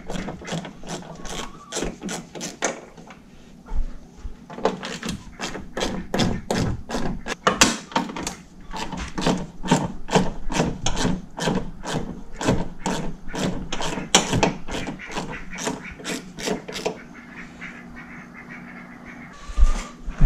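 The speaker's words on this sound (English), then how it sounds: "for starters, we gotta take the grill out of our Tundra" Repeated sharp ratcheting clicks from a hand tool loosening fasteners while the front grille comes off a Toyota Tundra, heard up close in a steady rapid rhythm with brief pauses and a few thuds.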